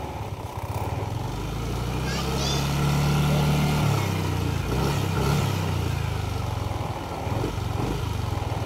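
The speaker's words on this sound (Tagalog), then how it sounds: "Kapag ni-revolution mo, maganda yung response ng motor." A Yamaha Aerox 155 scooter engine idles and then revs up and back down a few times, close by, with a steady mechanical drone between revs.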